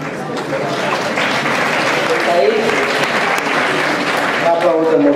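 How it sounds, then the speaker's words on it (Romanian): Applause from an audience at the 2017 UNARTE awards ceremony fills the room steadily and loudly, with voices and talk mixed in under the clapping. "Aplaudăm oricum."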